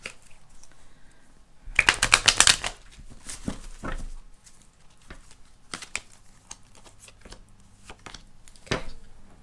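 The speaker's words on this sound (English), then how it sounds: "One more shuffle." Tarot cards being shuffled close up: a loud riffling burst, then scattered softer flicks and taps of the deck.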